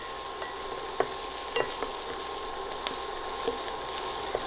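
Tindora sizzles in a pan with turmeric and curry leaves while a spoon stirs it, giving a steady frying hiss broken by a few scraping knocks, close up and without speech.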